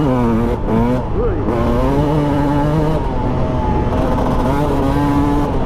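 A Husqvarna TE300 two-stroke dirt bike ridden on a road at dusk screams up through the gears, its loud buzzing engine climbing in pitch, dropping at each shift and rising again, with the rider speaking over the engine.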